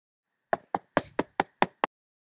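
Seven sharp knocks rap on a door in a quick, slightly uneven sequence, close and clear, with silence before and after.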